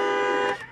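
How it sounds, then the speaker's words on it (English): A single car horn blares loudly for about half a second, then cuts off abruptly. "Beeping his horn, it's not working."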